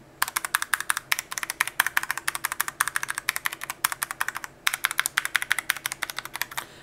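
Rapid typing on an Aula F3287 budget keyboard, a steady run of crisp, close keystroke clicks with a brief pause midway and no voices.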